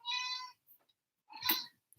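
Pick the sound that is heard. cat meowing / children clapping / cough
cat meowing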